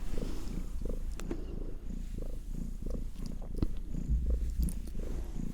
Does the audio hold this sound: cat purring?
yes